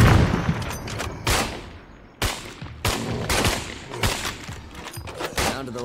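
Heavy .50 caliber gunshots fired at a juggernaut in the video game State of Decay 2, several loud, booming single blasts spaced about a second apart, each with a sharp crack and a rumbling tail.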